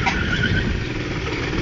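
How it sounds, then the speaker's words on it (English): School go-kart drifting across a playground, a loud continuous engine roar with tyre squeal throughout the short burst. "That was a nice drift there actually."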